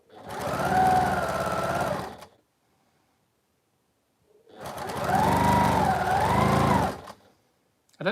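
Two steady bursts of close, loud whirring from a sewing machine stitching fat-quarter quilt pieces together, each run lasting about two seconds with a quiet gap between them.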